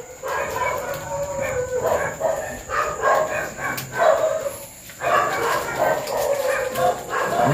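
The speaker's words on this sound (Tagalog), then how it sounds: "Maingay yung aso." A dog barks and yips repeatedly in short bursts at night outdoors, moderately near, with a steady insect-like high hum behind it.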